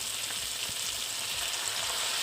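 Garlic and green chili sizzle in a hot pan, a loud, continuous frying hiss that stays steady throughout with nothing else over it.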